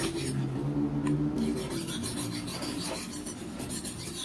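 Kitchen knife blade scraped back and forth over a hard, fine Bogor whetstone, giving a close, continuous gritty rasping with rhythmic strokes and no talking.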